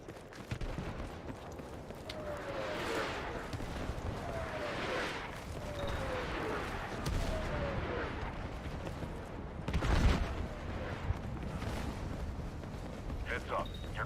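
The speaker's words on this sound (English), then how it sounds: "Watch out, airstrike coming in." Battlefield 6 REDSEC airstrike: a run of heavy explosions and rumbling blasts with whistling descents, booming repeatedly over about fourteen seconds, with a sharper, louder impact near the end and a steady, dense battlefield roar beneath.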